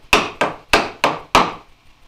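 A chisel being struck to pry wood out of a through mortise in a workbench, five sharp, evenly spaced knocks ringing close and loud, each decaying quickly before the next.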